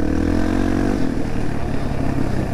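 A Yamaha TTR-230 dirt bike ridden over snow and ice, its engine a loud, continuous drone that rises and falls in pitch as the throttle changes, with no talking.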